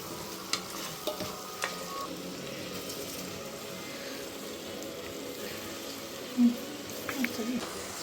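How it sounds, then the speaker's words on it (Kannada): Rice stir-fried in oil for mushroom biryani gives a soft, steady sizzle with a few light clinks and scrapes of stirring and one short knock, fairly quiet throughout. "ಅಕ್ಕಿ ಹಾಕ್ಕೊಂಡ್ಮೇಲೆ ಒಂದು ಸ್ವಲ್ಪ ಮಿಕ್ಸ್ ಮಾಡಿಬಿಟ್ಟು ಒಂದು 10 ಸೆಕೆಂಡ್ ಫ್ರೈ ಮಾಡಿ ಸಾಕು"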